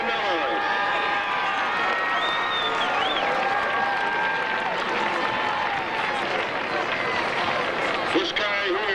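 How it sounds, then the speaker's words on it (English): A crowd at a gathering honoring former East Moline high school athlete John Cornelius applauds and cheers in a loud, continuous roar, with some tonal sounds weaving through the noise. "Let's have a nice round of applause for John Cornelius"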